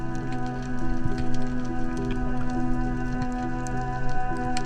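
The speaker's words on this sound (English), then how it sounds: "it's bucketing down. Heaps of rain, swells picking up, very surgy" Heavy rain pouring down on an island coast in New Zealand during a camping trip, a steady dense hiss of drops with a low surging wash from building swells beneath, continuous and close, with no voices.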